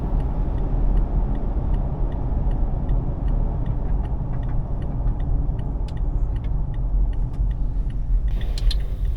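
Steady low rumble of a car rolling into a single-pump Sinclair gas station at Lochsa Lodge in rural Idaho, with faint ticking over the continuous engine and road noise throughout.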